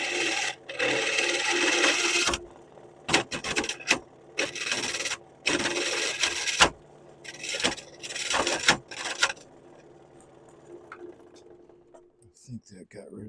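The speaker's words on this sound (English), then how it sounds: "I'm going to swap to the bowl gouge because it has more mass." Bowl gouge cutting wood spinning on a lathe, bursts of loud scraping and rasping in repeated passes separated by quiet gaps, fading to near silence toward the end, with a voice talking briefly.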